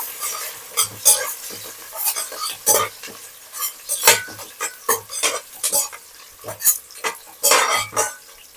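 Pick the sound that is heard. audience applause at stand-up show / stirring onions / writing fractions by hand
stirring onions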